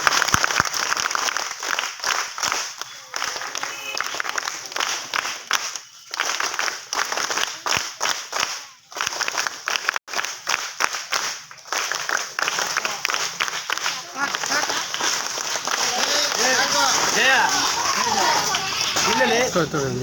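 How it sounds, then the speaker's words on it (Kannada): A crowd at a birthday celebration claps, with irregular bursts of applause mixed with chatter and children's voices, and the clapping swells toward the end. "ದಯಮಾಡಿ ಚಪ್ಪಾಳೆಯನ್ನು ಹಾಕ್ಬೇಕಂತೇಳಿ"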